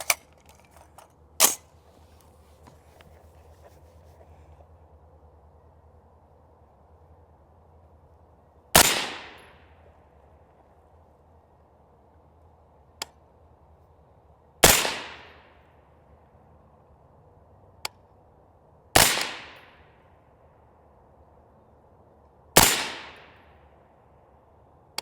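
Rifle shots from a 5.56 rifle firing 69 grain HPBT range ammunition, several sharp cracks spaced a few seconds apart, each with a short decaying ring, outdoors with no talking.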